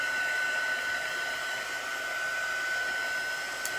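A hair dryer blows steadily up close to dry chalk paste on a craft project, a constant loud whooshing hum with a thin tonal whine that holds unchanged throughout, with no one speaking.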